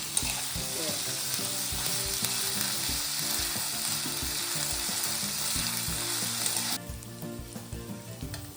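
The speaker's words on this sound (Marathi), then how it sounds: "कच्च्यात जर मटारचे केले आपण कटलेट तर ते चांगले नाही लागणार, म्हणून फ्राय करून घ्यायचे त्याला आपण असे" Green peas, chilli and garlic sizzle steadily in a pan as they fry for cutlets, with a dense crackle and occasional stirring knocks close by, the sizzle dropping off sharply near the end.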